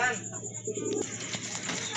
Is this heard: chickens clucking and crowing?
no